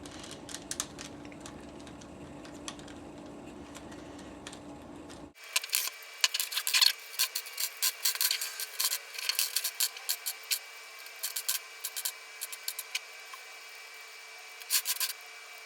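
Corners being unscrewed on a Dayan 4x4x4 puzzle cube, giving small plastic clicks and scratchy ticking, first over a faint steady hum, then sharper and busier, close and quiet with no talking.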